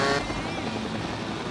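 Helicopter rotor drone in the motorbike stunt game Urban Trial Freestyle, a steady whirring hum held at an even level throughout, sounding fairly close, with no talk over it.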